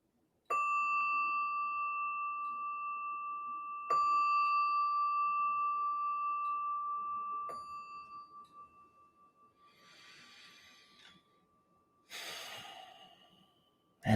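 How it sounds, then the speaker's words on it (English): A small meditation bell is struck three times in a quiet room, each ring clear and sustained and slowly decaying, followed by soft breaths and a rustle near the end. "I'm going to have the little ring of the bell again."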